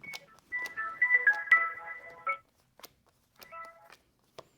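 A telephone rings in a radio studio during a live call-in show, sounding as two bursts of electronic tone with a few sharp clicks between them against an otherwise quiet background.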